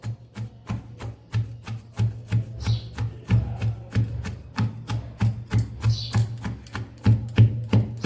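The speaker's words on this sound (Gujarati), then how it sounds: "આપણે ખાંડણીમાં સરસ બધું ખાંડી લીધું છે" Steady, rhythmic pounding of spices and salt in a mortar for mango-onion chutney, dull thuds repeating about twice a second, close and fairly loud.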